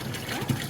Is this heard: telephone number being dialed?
no